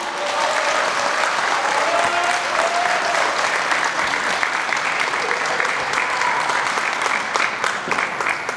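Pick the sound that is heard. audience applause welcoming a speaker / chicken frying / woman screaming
audience applause welcoming a speaker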